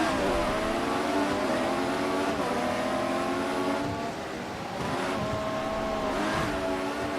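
Formula One racing car engines in the video game F1 2014 at Monaco scream at high revs throughout, with rising and falling pitch sweeps as several cars run close together, loud and continuous.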